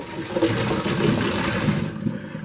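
Hot boiling water from cooking penne pasta is poured off to drain, making a continuous rushing splash that runs steadily for a couple of seconds before tapering at the end.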